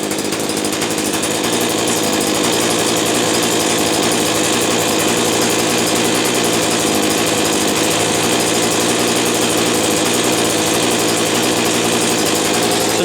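A small two-stroke string trimmer engine runs steadily and loudly the whole time, a dense buzzing drone with no pauses or voices over it.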